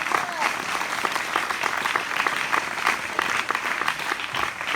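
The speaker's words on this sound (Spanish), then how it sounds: "Aplaudan sus manos y amen la palabra de Dios" A church congregation at a Bible study session claps together, dense steady applause lasting about five seconds with no break.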